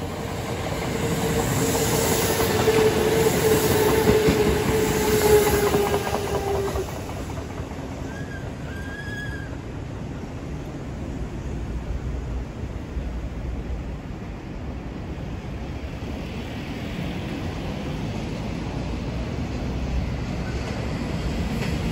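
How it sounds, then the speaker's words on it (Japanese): A JR freight train rolls past at the Nagoya rolling stock depot, heard from above as a loud rumble with a thin wheel squeal that fades after several seconds into a softer, distant hiss. "奥に JR 貨物。"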